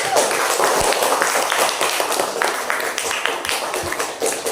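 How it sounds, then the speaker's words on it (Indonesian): A classroom full of students applauds group 1: dense, steady clapping close by and fairly loud, sustained for several seconds with scattered sharper claps and no voices over it. "Tepuk tangan dulu untuk kelompok 1"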